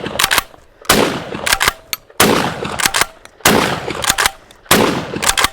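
An Adler B-220 AW straight-pull 12-gauge shotgun fires five loud, sharp blasts with heavy buckshot loads, spaced about a second apart in a steady cadence, each shot followed by a short ringing decay.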